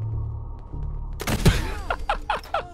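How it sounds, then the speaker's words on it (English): A missile launcher fires indoors in Fallout 4 with one sharp, loud blast, followed by several ringing metallic impacts and clattering debris that echo through the enclosed space. "I'm going to use this missile launcher indoors because fucking why not?"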